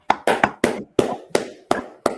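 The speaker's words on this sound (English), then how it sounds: "clap it up" Eight separate hand claps from a small group at an English Brotherhood scripture class, sharp and fairly close, landing in an uneven rhythm with short gaps between them and no talk.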